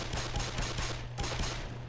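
A quick, steady string of gunshots in Black Mesa, evenly spaced rapid reports at moderate volume with a low background drone, no voices.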